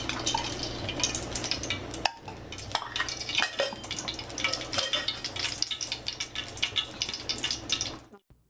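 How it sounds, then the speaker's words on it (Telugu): Eggplant and okra tumble into a cooking pot for buttermilk curry, followed by steady close stirring and scraping with sizzling and clattering of pot and utensils, continuing without speech until an abrupt stop. "వంకాయలు బెండకాయలు వేస్తున్నానండి."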